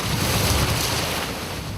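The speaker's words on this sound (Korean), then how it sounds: "파도가 높고 조류가 거세기로 유명한 마라도와 가파도 사이의 해상" Rough, high sea in the strong-current waters between Marado and Gapado, off Korea, roars as a steady broadband wash of waves and wind. The noise is loud and continuous for the whole stretch, with no voices.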